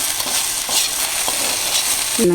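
Sliced okra and onion stir-fry in a hot pan with a loud, steady sizzle and faint scraping stirs, close up, ending with a brief metallic clink, no voices.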